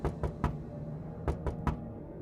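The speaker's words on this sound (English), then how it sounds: "then I heard a knocking" Two quick sets of three hard knocks on a door, close and distinct, separated by a pause over a low background hum.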